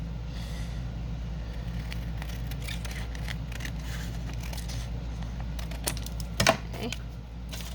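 Scissors cutting card to make booklet journal clip-ins, heard as faint crisp snips over a steady low hum, with one sharper, louder cut near the end.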